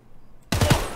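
Gunfire in a first-person shooter game (Reserve), bursting in suddenly halfway through after near silence, a loud close rattle of rapid shots.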